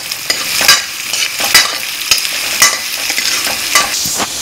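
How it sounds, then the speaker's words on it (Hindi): Ginger and green chili sautéing for sooji upma, a steady close sizzle of frying with repeated stirring scrapes from a spoon in the pan, no voices. "और जो अदरक है और हरी मिर्च है, इनका भी सबका थोड़ा कच्चापन निकाल देता हूँ।"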